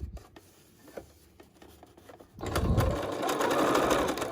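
A sewing machine runs a short return stitch on a DIY fabric filter mask, quiet handling noises at first and then a sudden close, steady mechanical whir for the last couple of seconds.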